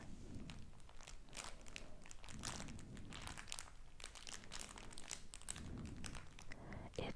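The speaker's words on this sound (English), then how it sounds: "So I guess so we can start with this very crinkly packaging." Plastic packaging of a Blissim beauty box crinkling close to the microphone, with continuous soft rustles and crackles in repeated handling bursts, recorded quietly in an ASMR style.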